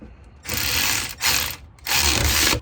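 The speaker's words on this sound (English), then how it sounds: "I'm just going to be using this 3/8 impact or powered impact from Milwaukee." A Milwaukee M12 3/8-inch cordless impact wrench works on axle bolts of a Nissan 350Z, firing three loud, close rattling bursts separated by short pauses.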